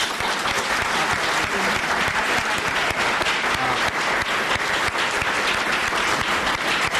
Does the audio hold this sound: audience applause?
yes